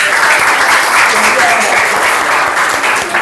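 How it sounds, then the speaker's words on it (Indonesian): Students in a classroom clapping together, a dense, loud burst of applause held for several seconds, close by and filling the room. "Oke, tepuk tangan buat kalian semua."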